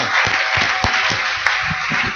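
A church congregation claps along loudly together, a dense spread of many hands with some louder individual claps standing out, and no voices over it.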